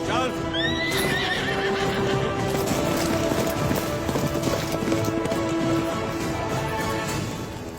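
Horse neighing loudly at close range over galloping hooves in a tense Indian movie scene, with a sustained whinny and steady clip-clop under a busy background score.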